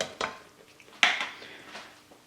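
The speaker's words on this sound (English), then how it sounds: "I am just going to give that all a quick stir" A spoon scrapes and clinks against a pot while ketchup, soy sauce and crushed red pepper flakes are stirred in a pressure cooker, giving two sharp knocks amid quieter scraping.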